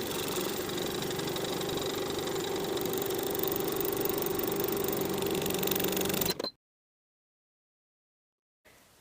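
A sewing machine runs in one steady burst, stitching fabric for kite pants with a fast, even mechanical whir close by, then stops abruptly into silence.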